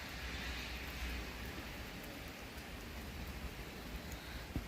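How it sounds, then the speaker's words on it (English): Rain falls steadily outside a porch on a quiet residential street, a soft, even wash of patter heard from a short distance, with a faint isolated drop or tap near the end and no talking. "It's just a nice, cool, rainy day today."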